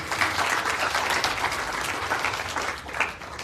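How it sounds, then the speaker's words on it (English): At an outdoor Ramayan event in a New York park, an audience breaks into dense, sustained applause, a loud wash of many hands clapping with no break for the whole stretch. "Let's give him a round of applause."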